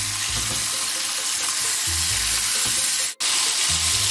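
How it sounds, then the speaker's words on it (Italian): Salt cod laid skin-side down in hot oil, frying with a steady, loud, close hiss and crackle that continues throughout, broken by a brief gap near the end. "Mettiamo il baccalà nell'olio dalla parte della pelle, così."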